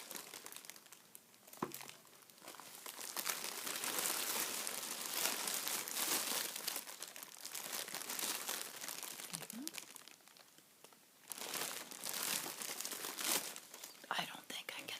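Plastic packaging around Viva paper towels crinkles and crackles close up in long, continuous bursts with brief pauses, while a voice whispers softly underneath.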